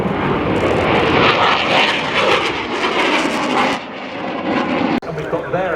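An F-4 Phantom jet at an air show roars loudly and steadily overhead, a broad, heavy engine rush that swells and then fades a little near the end, with voices mixed in beneath it.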